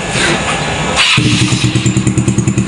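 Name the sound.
Yamaha Mio Soul 115 scooter engine starting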